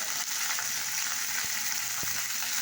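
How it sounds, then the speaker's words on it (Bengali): Bengali tempering spices (phoron) sizzling in a pan with a steady hiss, broken by two soft scrapes as they are stirred, with no voices present. "ফোড়ন দিয়ে একটু নেড়ে নিচ্ছি"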